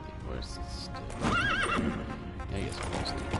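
D-Horse from Metal Gear Solid V: The Phantom Pain gives a loud wavering neigh amid steady clip-clop trotting hooves, with a person talking over the game sounds.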